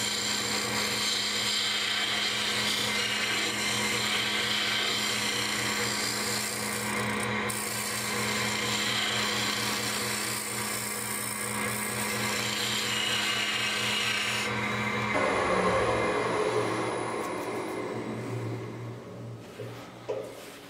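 Small cutter on a woodturning lathe shaping a Christmas tree project, a steady rasping, scraping cut over the hum of the spinning lathe, continuous and close, shifting character near the end as the cut changes.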